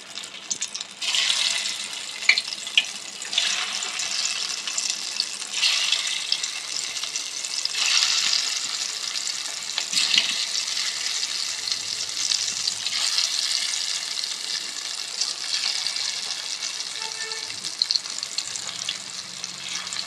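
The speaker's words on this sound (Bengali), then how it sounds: "এবার যে বরফিগুলোকে আকারে আমরা কেটে রেখে দিয়েছিলাম সেগুলোকে আমরা তেলের মধ্যে দিয়ে ভেজে নেব।" Diamond-cut dhoka pieces fry in hot white oil with a steady, close crackling sizzle that runs unbroken for about twenty seconds, with no voices.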